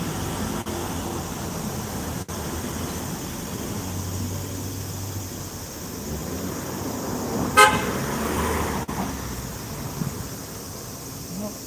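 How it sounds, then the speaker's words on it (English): Evening street traffic in Tokyo along the Oimachi Line, a steady roar of passing cars with one short car horn toot partway through, heard from the pavement with no talk over it. "Traffic is a bit rough today."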